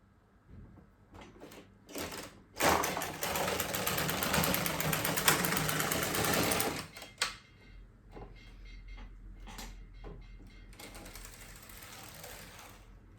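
An LK150 knitting machine knits fair isle: the carriage makes a loud sustained whirring, clattering pass across the bed, followed by quieter short clicks and shuffles, with a second, softer pass near the end.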